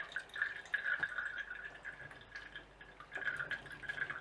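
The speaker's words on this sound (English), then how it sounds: "I'm basically just going to juice the lemon right into the cup" A large lemon is squeezed on a citrus juicer with a strainer, and the juice drips and trickles into a cup in soft, intermittent spurts, close and quiet.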